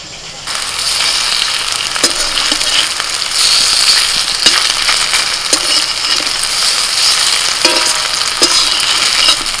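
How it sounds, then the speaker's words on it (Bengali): Prawn fritters fry in a small amount of oil, sizzling steadily up close with crackles and occasional clicks and scrapes of a utensil stirring in the pan. "এরকম অল্প তেল দিয়ে ভাজতে হবে।"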